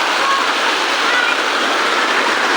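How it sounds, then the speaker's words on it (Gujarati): Heavy monsoon rain pours down close by in a steady, unbroken broadband roar, loud and constant throughout with no voices. "આમ જુઓ એટલો વરસાદ આવે છે"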